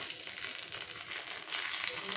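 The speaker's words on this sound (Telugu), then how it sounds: "తాలింపుని ఇది పప్పులో వేసేసుకోవాలి" Hot tempering poured into cooked moong dal for pesara kattu sets off a bright, crackling sizzle that stays steady and close, swelling slightly toward the end, with no talking.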